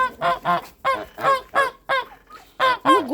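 Geese honk loudly in a rapid series of about eight calls, close by and unaccompanied.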